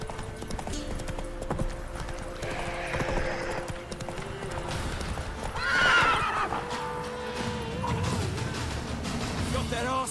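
Roach, a horse in The Witcher 3, clip-clops steadily at a trot and lets out a clear neigh midway, with game music and ambient clatter running underneath throughout.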